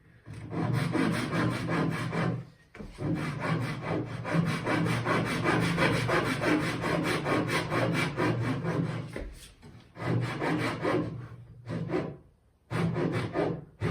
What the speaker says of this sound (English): I've never cut all the way to this line and this line with the saw.